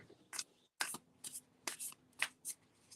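Oracle cards being shuffled in quick riffles, a series of crisp bursts with short pauses between them, close and fairly quiet.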